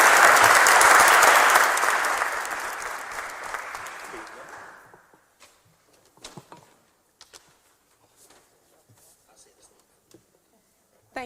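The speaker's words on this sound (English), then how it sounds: "to give them a round of applause and acknowledge them" At a Cleveland city council meeting, the room breaks into loud, full applause that gradually fades out over several seconds. Faint rustles and small movements follow.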